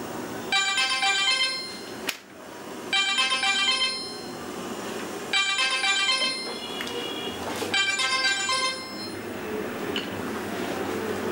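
A mobile phone ringtone plays loud and close in four repeated bursts of bright, electronic melodic tones, each about two seconds long, with short gaps between them.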